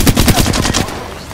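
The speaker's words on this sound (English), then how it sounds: "Shots fired and they're hitting me." Rapid automatic gunfire from the battle royale game Apex Legends fires as a close, loud burst of about ten evenly spaced shots that fades out in the final moments.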